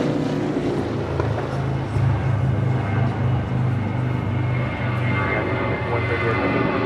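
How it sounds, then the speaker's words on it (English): A Boeing 777 freighter arriving from Taipei at LAX makes a continuous low engine rumble with wind buffeting, held fairly steady and moderately loud, with no clear talk. "5138 coming in from Taipei on a 777 freighter"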